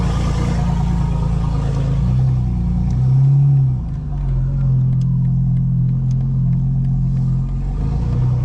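A 2024 BMW M4 Competition xDrive in full sport settings drives with a steady low exhaust rumble, rising briefly around the middle, with faint crackling burbles scattered over the drone.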